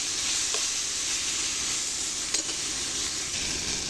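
Elephant apple (chalta) pieces fry in oil, giving a dense, constant close sizzle with a couple of faint stirring clicks and no talking.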